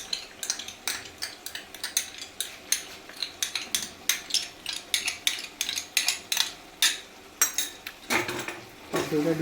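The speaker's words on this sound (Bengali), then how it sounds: "দইটা দিয়ে কিছুক্ষণ নাড়াচাড়া করবো।" Chicken being stirred with whisked sour yogurt in a metal pot, a spoon scraping and clinking against the sides in a steady run of sharp, close strokes, with a faint sizzle underneath.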